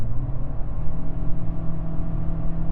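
A 2013 Nissan Altima S, a gearless CVT car, pulls hard in sport mode, its engine giving a steady droning whir that swells and wavers continuously at close range with no voices.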